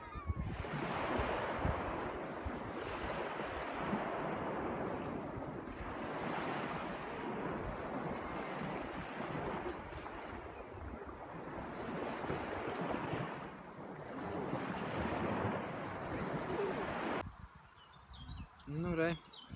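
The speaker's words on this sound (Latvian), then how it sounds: "Tur jūra." Sea waves at Saulkrasti beach wash ashore in steady repeating surges, mixed with wind buffeting the microphone, before the sound drops away near the end.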